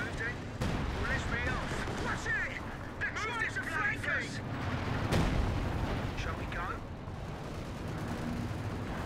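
Base defenses pound away at tanks in a World War II strategy game set at Essen Steelworks. Dense, overlapping booms and gunfire rumble continuously, with a heavy blast near the middle, while voices talk over the battle.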